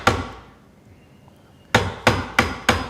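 A hammer strikes an Irwin Marples carpenter's wood chisel into wood: one sharp blow, a pause, then four quick evenly spaced strikes, close and crisp with no talking.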